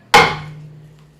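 One sharp, loud metallic smack of a hammer striking a car strut during strut and exhaust work on a 2012 Ford Explorer, followed by a ringing tone that fades over about a second.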